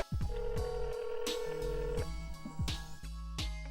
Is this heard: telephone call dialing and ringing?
yes